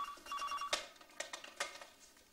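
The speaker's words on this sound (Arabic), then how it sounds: "قوم رد على التليفون" An old-style telephone bell rings in short repeated bursts, fairly faint with room echo, and no talking over it.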